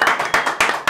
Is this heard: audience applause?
yes